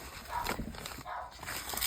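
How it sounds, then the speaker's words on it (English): A dog barks a few quick, sharp barks at a man indoors, moderately loud and somewhat muffled, with no talk. "Ignore the dog barking at the husband."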